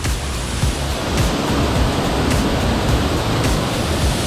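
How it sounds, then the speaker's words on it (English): A waterfall on the El Al River roars as a constant, loud broadband rush of falling water, heard close up with no talking. "This is the waterfall!"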